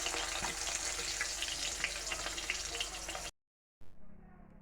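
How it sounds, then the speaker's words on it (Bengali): Kangla fish pieces fry in hot oil with a loud, steady broadband sizzle that cuts off abruptly, followed by a brief quieter stretch of softer bubbling after a short silence. "যে তেলটা গরম হয়ে গেছে, এখন মাছগুলো ভেজে নেব।"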